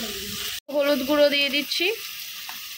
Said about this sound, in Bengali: এবার এটাকে আমরা খুব ভালোভাবে কষিয়ে নেব।